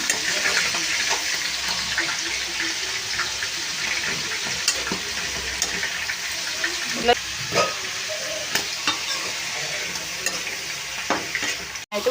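Onions fry steadily in a pan with a continuous close sizzle, broken by occasional clinks and scrapes of stirring.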